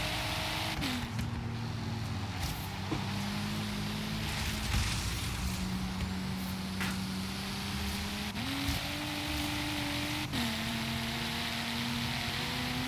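Video-game car engine in Forza Horizon 3, played with a steering wheel, droning steadily as the pitch climbs and drops through gear shifts, loud and continuous.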